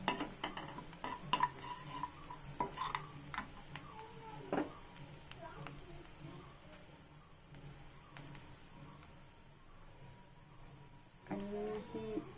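Masala being roasted and stirred in a pan, quiet intermittent scraping and ticking of a utensil against the pan over a faint steady sizzle, with a few louder clinks.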